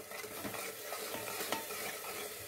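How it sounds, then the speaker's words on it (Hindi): Tomato puree is stirred into a pan of baby potato masala, with a soft sizzle under scraping spoon strokes that come in an uneven rhythm, close by and without talk. "और इसके बाद मैं डाल रही हूँ ये टमाटो की प्यूरी, इसको हमको मिक्स कर लेंगे अच्छे से।"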